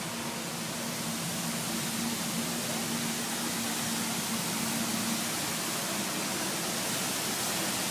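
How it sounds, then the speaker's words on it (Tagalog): Waterfall at Sentosa giving a steady, even rushing hiss of falling water, unbroken throughout with no voices. "Tingnan mo, may falls. Sa Sentosa."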